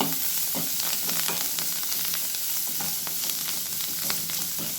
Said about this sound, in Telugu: పోపులోనే ఇందాక కట్ చేసి పెట్టుకున్న కొత్తిమీర కూడా వేసుకోవాలండి పోపులో కొత్తిమీర ఫ్రై అయితే టేస్ట్ చాలా బాగుంటుంది